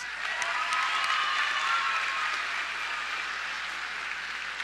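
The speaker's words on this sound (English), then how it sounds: "Let's give all of our students another round of applause." Steady applause from a school promotion ceremony audience for its students, a dense even wash of many hands clapping that holds for several seconds and fades slightly toward the end.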